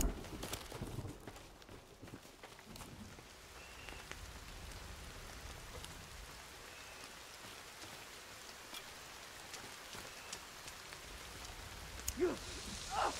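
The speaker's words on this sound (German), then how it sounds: "Es regnet ja." Rain patters softly and steadily on a surface in the video game The Forest, with scattered drips and faint clip-clop footsteps mixed in.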